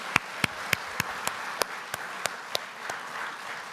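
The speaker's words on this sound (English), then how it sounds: "Let's give them a round of applause." Sparse, evenly spaced hand claps from a church congregation during a Sunday service, each clap sharp and distinct against a quiet room, thinning out as the applause fades.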